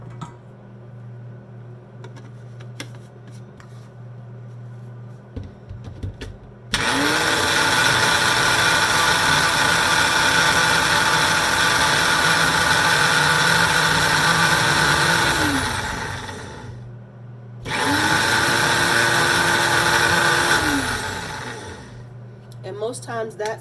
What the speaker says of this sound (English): we're going to put this back in our blender cup